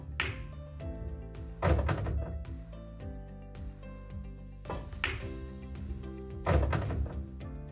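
Pool cue hitting the cue ball into object balls on a billiard table for a follow shot, giving a few sharp clacks and knocks spaced across the clip, close and fairly loud.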